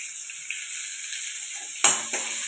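Onion and garlic sauté in a pan, a soft steady sizzle near at hand, broken by a sharp clatter of a utensil against the pan and a brief scrape near the end.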